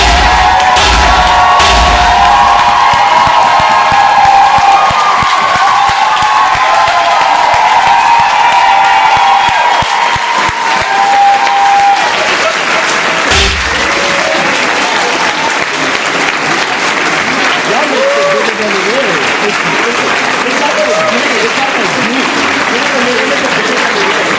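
A crowd at a ballroom competition ball roars with loud, sustained clapping, cheers and shouted whoops, continuous and dense for the whole stretch, with voices calling out in the mix.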